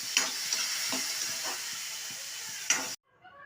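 Tomato sautés with garlic and dried chillies in a pan, giving a bright steady sizzle punctuated by rhythmic stirring scrapes about every half second, then the sound cuts off abruptly.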